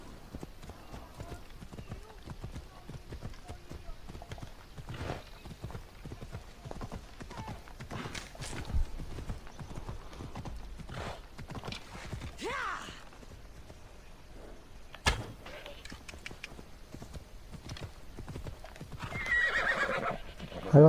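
Horse hooves clip-clop in a steady gallop in the video game Assassin's Creed Odyssey, with whinnies and snorts rising over the run, faint game ambience, and a player talking at times.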